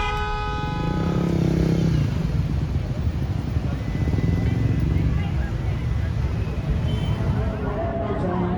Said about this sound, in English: A lot of motorbikes.